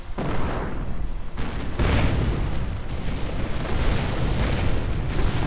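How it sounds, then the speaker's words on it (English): Mortar and artillery explosions in a video game: dense, overlapping booms and rumbling blasts rolling continuously with little pause. "Mortar bombarding any suspected positions."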